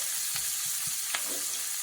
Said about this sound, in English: And while that's frying,